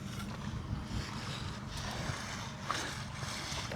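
Steady wind rumbling and buffeting across the microphone outdoors, continuous low roar with faint background noise.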